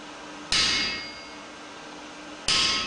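A hammer strikes a splitting chisel held on a hot forged workpiece, two sharp metallic blows about two seconds apart, each ringing and fading, fairly close with quiet between them.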